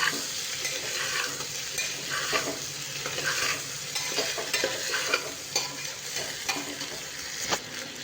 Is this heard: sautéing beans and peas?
yes